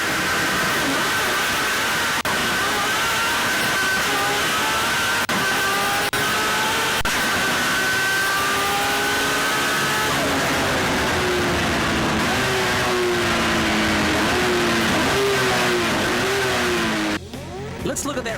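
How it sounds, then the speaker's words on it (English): Nissan Skyline race car heard from inside the cabin during a drag run, its engine loud and close as it revs hard and climbs through the gears with rising pitch and brief shift dips, steady roar throughout until a sudden drop at the end. "let's go in car in Glen's Skyline."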